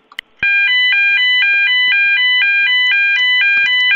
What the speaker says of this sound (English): Who is testing the alarm?